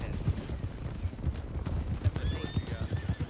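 Horse hooves clip-clop in a steady trotting rhythm in a video game, close and clear, with a brief whinny and faint voices in the background.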